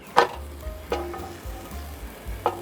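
A grilled cheese sandwich sizzles steadily in a pan just after being flipped, a soft continuous frying hiss broken by a few light clicks and scrapes nearby.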